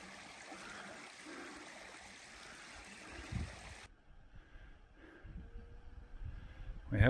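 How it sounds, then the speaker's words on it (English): Footsteps splash through a shallow mountain stream in the Apennines, with steady rushing, trickling water up close that cuts off abruptly midway, then softer flowing water with scattered steps and a sharp knock at the end. "Crossing streams."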